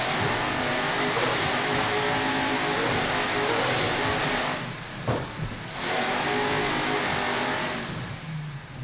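Race cars circle an ice track in a steady, loud engine roar that briefly dips and swells as a car passes, with no talk.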